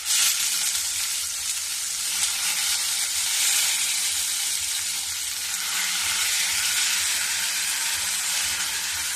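Onion sizzling as it fries in hot oil in a pan, a steady close hiss that holds evenly throughout without speech.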